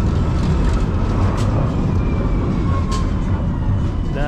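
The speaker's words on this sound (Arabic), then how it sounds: "هنركب الترام من هنا، وهذا هو الترام ان شاء الله." A tram pulls in at Eminönü, Istanbul, a loud steady rumble of wheels and motor up close with a rising squeal near the end, against busy street noise.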